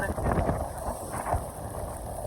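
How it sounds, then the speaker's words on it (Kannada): Strong, cold wind on a fog-covered hill climb toward Bettada Bhairaveshwara temple, buffeting the microphone with a steady broadband roar and a few stronger gusts throughout. "ಹೆವಿ ಚಳಿ ಗಾಳಿ."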